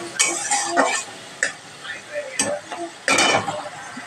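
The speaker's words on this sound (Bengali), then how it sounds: "যাতে মাছটা পুড়ে না যায়। নাড়াচাড়া করে নেবো, করে নিয়ে দিয়ে দেবো" Fish frying in a pan is stirred and turned, giving scraping clatters and utensil knocks in short bursts over a soft background sizzle, with brief pauses between strokes.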